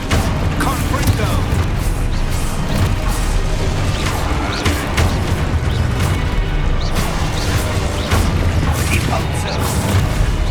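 Confringo fire spell blasts in Hogwarts Legacy gameplay, repeated booming explosions and crashes in rapid succession, loud and dense, with a voice shouting spell names over the combat.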